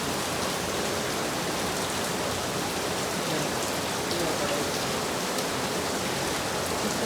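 Steady rain falls outside, a dense even hiss of drops on surfaces filling the whole stretch with no break, heard alone at moderate level.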